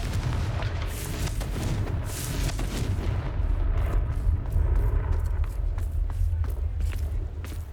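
Continuous rumbling explosions and booming blasts from the Confringo fire spell in Hogwarts Legacy, dense and loud throughout with scattered sharp crackles over a deep roar.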